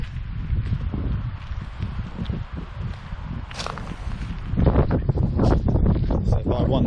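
Strong night wind buffets an outdoor microphone in steady low roaring gusts, with rustling and scuffing footsteps mixed in and the blustery noise swelling louder near the end.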